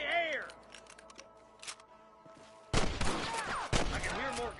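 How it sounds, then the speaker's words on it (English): Gunfire in the Western video game Red Dead Redemption: a few bursts of sharp shots among game voices and effects, ending in two loud, close reports with ringing tails. "I can hear more gunshots."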